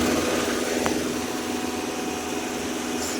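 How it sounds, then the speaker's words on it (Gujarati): A tractor engine with a freshly repaired punctured tyre runs at full throttle, a steady, loud, unbroken drone with no pauses or talk. "જો આપણું ટ્રેક્ટર કેવું ભાગે તે હમણાં ફૂલ એક્સિલેટર આપ્યું છે"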